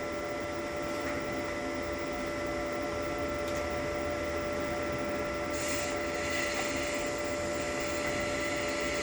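A lift TIG torch welding with shielding gas flowing at about 20 gives a steady, continuous buzzing hiss at even loudness throughout, with a few brief brighter crackles partway through.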